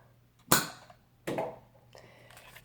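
A Nerf Nite Finder blaster fires a dart with a sharp, close pop, then a second softer burst follows about a second later, with a fainter rattle trailing after.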